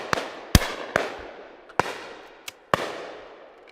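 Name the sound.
shotgun shot at a game shoot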